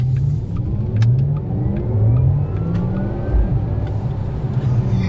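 A Porsche Taycan electric car accelerates with its sound generator on, giving a loud, close, rising synthetic whir and hum that climbs steadily in pitch over road and wind noise.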